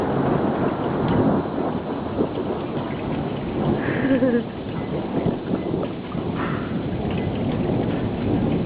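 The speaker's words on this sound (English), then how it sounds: "Here comes thunder." Thunder rumbling low and long through a heavy rainstorm, with steady rain hiss and dripping throughout and a faint voice briefly under the storm.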